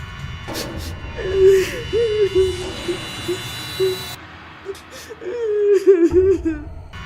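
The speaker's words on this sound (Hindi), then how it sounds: "तभी दूर किसी के सिसकने की आवाज सुनाई देती है।" Distant sobbing in a dark forest as a horror story sound effect, a trembling whimpering cry rising and falling in broken phrases over eerie ambience, pausing midway before resuming.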